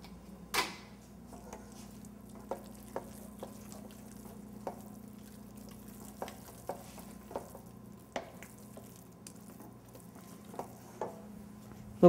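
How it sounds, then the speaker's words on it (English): Grated cheese being stirred into a pot of polenta: soft scraping with a dozen light, evenly spaced spoon taps against the pot over a steady low hum, with no talking. "At the end of the polenta, we stir in a little bit of grated cheese."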